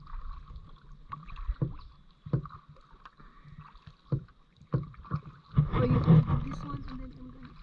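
A kayak paddle dips and pulls through lake water in soft, irregular splashes, with a louder swirl of water near the end, while people talk quietly nearby.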